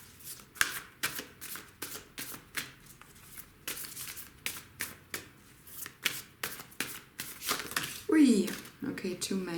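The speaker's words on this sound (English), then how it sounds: "Let me get you an oracle card." Oracle cards shuffled by hand in a steady series of crisp, papery slaps and riffles, close and fairly quiet, with a person talking in between.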